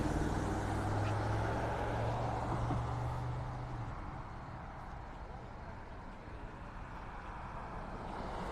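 Road traffic rolls past near Vanderbilt Beach in North Naples, Florida, as a steady broadband roar with a low engine hum that fades slightly midway, close and continuous.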